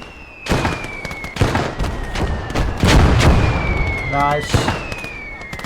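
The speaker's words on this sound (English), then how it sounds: "Good job from the mortars." Mortar fire in the World War II strategy game Blood Red Snow: a series of sharp explosive bursts and booms over a steady battle din, with a short spoken word in the middle.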